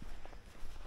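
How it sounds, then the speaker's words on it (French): Soft footsteps crunch on sandy ground in the Forêt de Saint-Amand as the walker moves away, faint and steady, with no voices. "donc il entend mes bruits de pas s'éloigner,"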